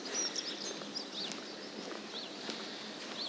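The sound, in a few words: birds singing in the morning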